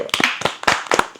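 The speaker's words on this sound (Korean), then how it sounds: "박수 한번 칠까요?" Hands clap a few times, sharp close slaps in an uneven quick burst of about six claps, with faint voices around them.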